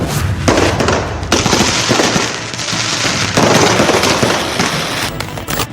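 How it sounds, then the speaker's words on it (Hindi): Dense, continuous crackle of Diwali fireworks and firecrackers bursting, loud and close, with rapid overlapping pops and bangs throughout. "लोगों ने इस दीपावली जमकर पटाखे फोड़े और आतिशबाजी की"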